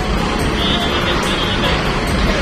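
The Oto Nini Mama intercity bus drives along a road during the peak holiday homecoming traffic. A loud, steady engine and road rumble continues throughout, close to the microphone.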